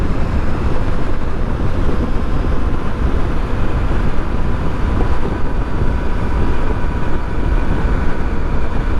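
A Honda ST1300 motorcycle cruises on the interstate in third gear, heard as a loud, constant roar of engine and rushing wind buffeting the microphone, steady throughout with no voices.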